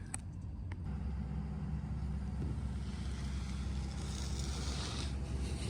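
A Mercedes E63s AMG wagon with a Meisterschaft exhaust and Eurocharged Stage 1 tune idles steadily, a deep continuous rumble heard close and unbroken throughout, with a slight rise in tone toward the end.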